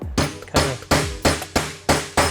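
A hammer strikes a hole punch into sheet metal, part of a VW bus restoration, with seven sharp ringing metallic blows at an even rhythm, each decaying quickly, close and loud.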